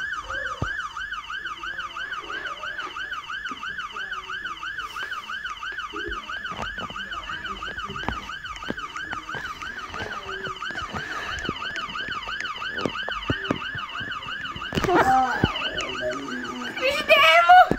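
A fire engine siren wails in a steady, fast repeating up-and-down pattern, loud and continuous, with a clatter of other noises and voices breaking in near the end.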